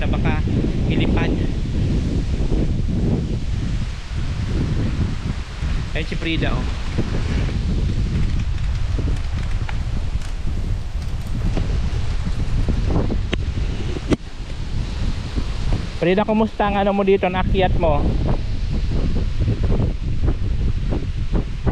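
Strong wind buffets the microphone at a hilltop overlook, a loud continuous rumbling roar with gusts, while people talk to each other over it throughout.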